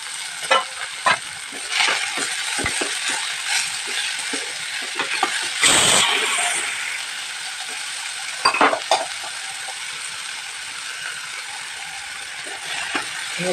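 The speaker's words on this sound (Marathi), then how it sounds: "आणि याला छान असं फ्राय करून घेऊयात" Onion and tomato frying in a pan, with steady sizzling throughout and a spoon scraping and clinking against the pan as it stirs, close and alone.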